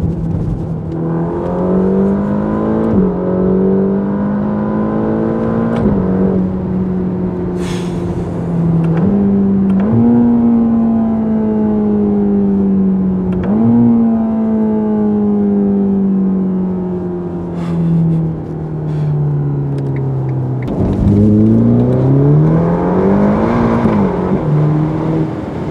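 Ferrari Roma supercar engine while driving, a loud steady drone that climbs in pitch through several gear changes and drops between them, heard close with no talk over it.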